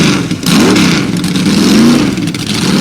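A Caldwell D7 Can-Am race car engine revs loudly close by as it prepares to head out, pitch swelling and dipping in rising and falling surges.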